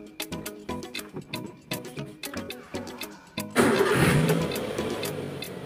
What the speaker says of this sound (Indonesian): Ini saya hidupkan mesinnya.